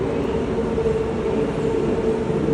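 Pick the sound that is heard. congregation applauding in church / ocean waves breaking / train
train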